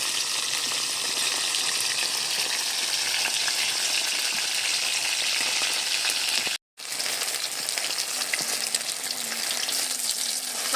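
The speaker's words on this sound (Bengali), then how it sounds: "আর আমি অল্প অল্প করে মাছগুলো দিয়ে ভেজে নিচ্ছি" Nihare fish frying in hot oil for a spicy winter curry, a loud steady sizzle and crackle running throughout with one brief silent gap, no voices.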